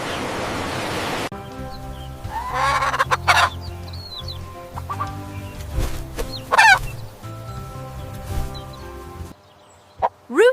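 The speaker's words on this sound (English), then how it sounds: "Rooster." Rooster clucking and crowing in bursts, with loud broken calls near the start and middle over a steady farmyard background hum, fowl sounds repeating and then a short sharp call near the end.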